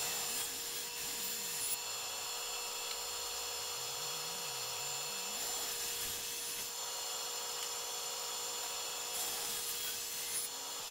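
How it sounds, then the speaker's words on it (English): Table saw with a dado blade set against a fence, cutting dadoes through wood panels: a steady, continuous whirring cut that runs the full length at even loudness, with only slight swells as the stock moves through. "it's just a matter of just running them through the saw"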